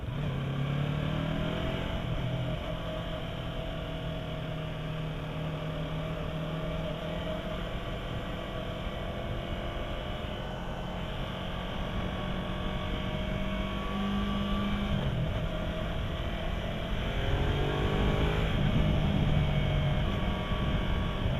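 A 2015 Yamaha R3 motorcycle engine drones steadily throughout a test ride, its pitch rising and falling with gear changes over constant road and wind rush.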